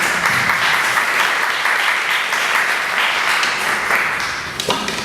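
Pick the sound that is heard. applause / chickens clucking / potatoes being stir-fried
applause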